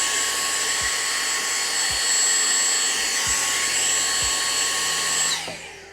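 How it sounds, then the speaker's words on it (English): A little vacuum cleaner drones loud and steady nearby, then cuts off near the end and winds down into quiet. "Let me go get my little vacuum cleaner real quickly."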